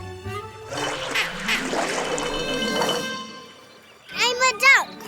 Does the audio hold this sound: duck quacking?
yes